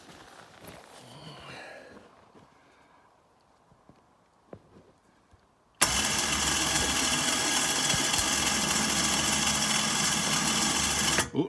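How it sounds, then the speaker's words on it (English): An ATV winch starts up abruptly halfway through, pulling a pulk sled to test its braking system. A loud, steady mechanical whir runs continuously after several seconds of near quiet with a few faint knocks. "I'm gonna pull my ATV winch here and see"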